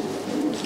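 A racing pigeon held in the hand gives a soft, low coo that hums steadily through the short moment, close by and fairly quiet, with no talking over it.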